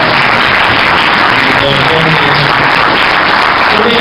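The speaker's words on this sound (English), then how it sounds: "can we give them another round of applause?" A crowd at a boys' soccer banquet applauds continuously, dense loud clapping filling the room from start to finish, with scattered voices mixed in.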